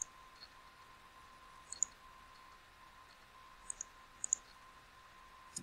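A computer mouse gives a few faint, sharp clicks, spaced irregularly in small clusters against a quiet room hum.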